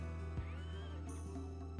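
A horse whinnies briefly in Rimworld, a short rising-and-falling neigh over a steady droning game music bed, fairly quiet.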